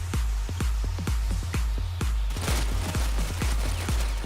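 Rapid bursts of gunfire from the video game Ghost Recon Phantoms, a steady rhythm of loud, punchy shots roughly every quarter second, densely repeated over several seconds with no talking.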